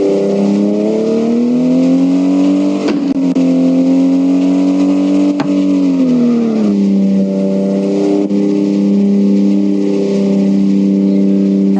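Engine noise from a car driven in the mobile game Car Parking Driving School: a loud, continuous mid-pitched hum that rises and falls gently as the car speeds up and shifts, with no talk over it.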